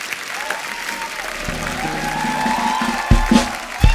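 A studio audience on a TV comedy show applauds steadily, a dense patter of clapping and some cheering heard close, with a few louder thumps near the end.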